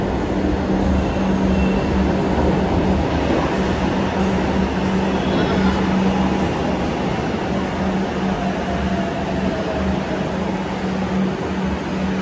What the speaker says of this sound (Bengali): মেট্রো ঢুকে গেছে